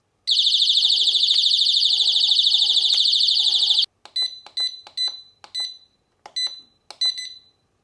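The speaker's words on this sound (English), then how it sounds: "once I trigger the alarm and set it off" A Mosaic MH306V alarm going off after being triggered: a loud, piercing continuous siren for several seconds, then a series of separate shrill beeps in an uneven rhythm.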